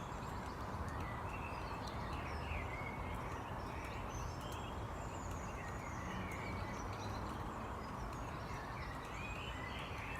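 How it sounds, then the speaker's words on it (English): A dawn morning chorus of birds gives faint, scattered chirps and short whistled phrases at a distance, spread over a steady low background hiss for the whole stretch. "Can you hear the birds singing?"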